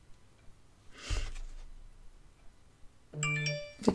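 Mobile phone going off indoors, giving a short chime-like ringtone burst of bright tones near the end, preceded by a brief thump, in an otherwise quiet room.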